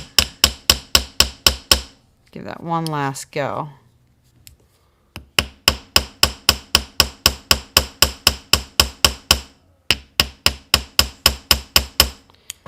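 Rapid, evenly spaced metal hammer blows ring out in bursts as a rivet is hammered flat, broken by a short grinding or scraping sound and a brief spoken phrase.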